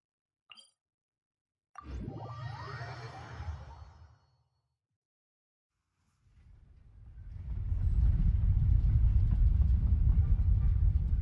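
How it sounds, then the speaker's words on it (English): A train in Genshin Impact starts with a brief soft pop and a whooshing swell, then after a pause a low rumbling roll builds and holds steady, growing loud until the end. "That's a train?"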